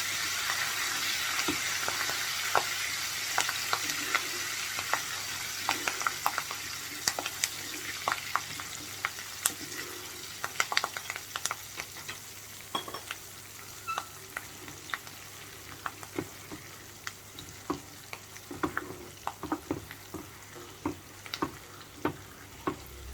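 Curry leaves sizzling in hot oil for South Indian tomato achar, a constant frying hiss broken by frequent sharp crackles and stirring clicks, growing more spattery toward the end.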